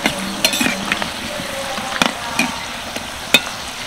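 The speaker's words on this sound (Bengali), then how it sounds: "সবগুলো উল্টে পাল্টে ভেজে নেব।" Nimki frying in oil are turned over with a utensil, giving sharp scattered clicks and scrapes against the pan over a low, steady bubbling sizzle.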